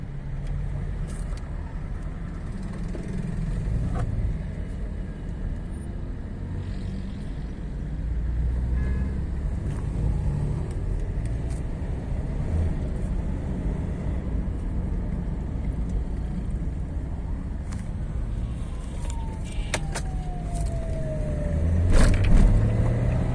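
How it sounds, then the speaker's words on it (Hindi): An ordinary automatic car drives held in gear 2, giving a low, steady engine and road rumble throughout with a few faint knocks and a brief rising whine near the end. "अगर हम एक नॉर्मल ऑटोमेटिक गाड़ी को 2 पे रख के चलाएं"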